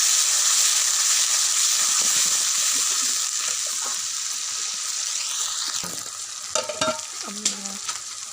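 Fish curry sizzling and frying in a pan under steady stirring, then water being added, bringing a few short sloshing splashes and a brief tonal clink near the end.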